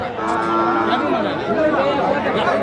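Cattle lowing amid a busy outdoor crowd at a livestock market in Krishnagiri district, India, with steady chatter and a low drawn-out moo rising over the noise.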